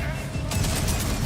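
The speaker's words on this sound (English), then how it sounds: "There's the grenades. I see it over there doing its business." Grenades going off in Borderlands, a dense burst of crackling blasts that erupts midway and rattles on loudly over a busy game background, with a voice faintly underneath.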